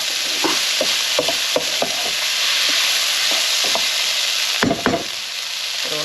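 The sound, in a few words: bacon and fruit juices added to hot pan, sizzling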